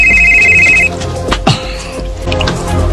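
A cellphone rings in a Cebuano radio drama scene, a steady electronic trill lasting under a second that cuts off, followed by faint background room sounds and a soft knock.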